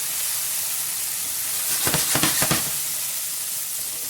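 Garlic in about a tablespoon of oil sizzles in a pan while orange chicken is being prepared, a steady hiss with a few brief stirring bursts in the middle and no talking.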